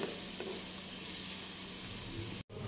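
Ginger sizzling as it is stirred and sautéed in a pan, a constant crackling hiss with soft scraping, cut off abruptly near the end.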